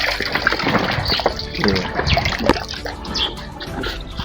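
Catfish fingerlings poured from a basin into a pond, with continuous close water splashing and trickling throughout, busy and fairly loud with no voices.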